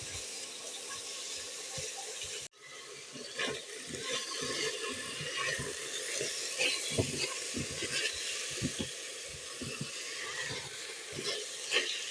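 Chicken fillet sizzles steadily in a pan for several minutes' worth of cooking, with a sudden break and then continuous frying hiss punctuated by scraping, clattering stirring strokes close by, no talking.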